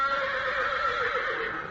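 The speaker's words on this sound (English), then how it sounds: "Gene Autry's Champion, the world's wonder horse" A horse gives one long, wavering whinny, loud and close, rising and trembling across its length in a vintage radio drama about a wonder horse.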